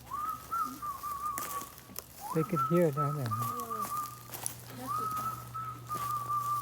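A person whistles a long, steady high note to call catfish at a pond, pauses while a bird-like warbling call and a brief voice come through, then whistles again outdoors.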